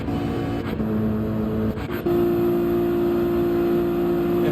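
Toyota Supra race car engine in Gran Turismo 7 at the Nürburgring, a steady loud drone with a brief dip and gear change, then a sustained higher engine tone.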